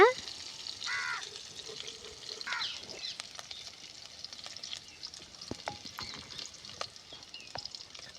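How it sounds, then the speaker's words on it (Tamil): Onions sauté in a pan for a carrot and bean stir-fry, giving a steady, moderately faint sizzle with scattered stirring clicks and scrapes; a voice speaks briefly near the start. "வெங்காயம் வணங்குற அளவுக்கு வணக்கிக்கோங்க"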